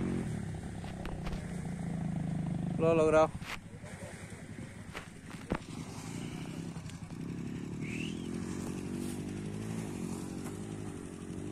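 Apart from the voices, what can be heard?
Trueno 125 motorcycle engine climbing an enduro trail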